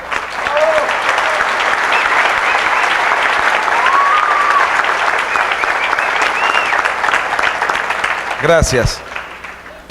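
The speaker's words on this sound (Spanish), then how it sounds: "así que un fuerte aplauso para Él." An audience bursts into sustained loud applause at a talk, clapping densely for several seconds before fading as someone speaks briefly near the end.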